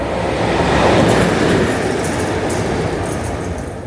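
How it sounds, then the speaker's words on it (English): A locomotive passes through Hellifield railway station, a loud, close rolling rumble with rail clatter that swells and then slowly eases, with faint metallic squeals on top. "there is a locomotive ready to pass through this railway station"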